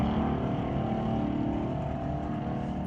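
A 1979 Malibu drag race car's engine at the track, a sustained, fairly loud mechanical roar with steady harmonic tones, heard from some distance and holding level for a few seconds.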